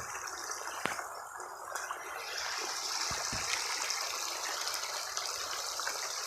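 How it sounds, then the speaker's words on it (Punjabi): Water gushes and flows steadily, a constant rushing stream with a few brief knocks and clicks, no one speaking. "ਇਦਾਂ ਹੀ ਆ ਸਾਰੇ ਪਾਣੀ ਚੱਲ ਰਿਹਾ"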